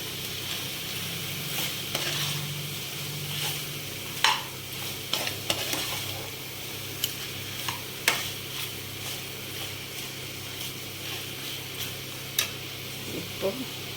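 Meat curry sizzling in a pan with chilli powder and salt, stirred by a spoon in repeated scraping strokes and clicks over a steady close frying hiss, with a few louder knocks.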